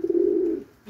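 A homing pigeon gives a single close, loud, low coo that holds steady before fading out.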